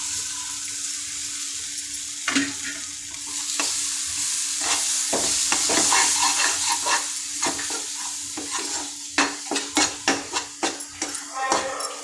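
Ground masala paste for a chickpea gravy sizzling in a pan, a steady frying hiss broken by scraping stirs and sharp clinks of a spoon against the pan, close and growing busier toward the end.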